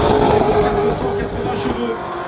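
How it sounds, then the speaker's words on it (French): BMW M3 drift car fitted with a 5-litre V8 from a BMW M5, roughly 480 horsepower, at a drift event in Luxembourg; steady engine roar at a distance under a commentator's voice. "Avec cette BMW M3, le moteur c'est en V8 5 litres de BMW M5."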